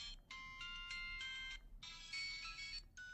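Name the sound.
phone ringtone playing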